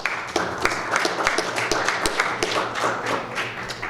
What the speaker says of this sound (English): So again, another round of applause for her.